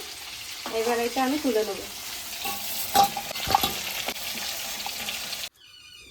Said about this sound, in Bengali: চিকেনটা আমি আধা আধা ভাজা করে নিচ্ছি